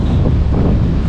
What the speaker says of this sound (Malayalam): ചെറിയൊരു വെള്ളച്ചാട്ടം ആ സൈഡിൽ കൂടെ പോകണ്ടാ. സൗണ്ട് കേട്ടോ